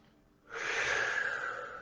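A deep inhalation during yoga meditation, a steady breathy rush that swells in after a quiet moment and holds for over a second, close and fairly soft.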